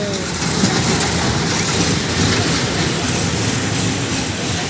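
A roller-coaster-style amusement park train ride at Bangabandhu Sheikh Mujib Safari Park rolls along its rails with a steady, loud, continuous rumble and clatter throughout, with no clear talk.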